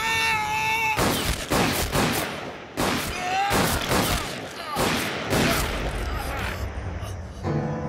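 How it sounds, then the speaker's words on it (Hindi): Several sharp gunshot cracks in a staged raid scene, spaced irregularly with brief gaps between them, mixed with agitated shouting voices. "किसने गोली चलाई है?"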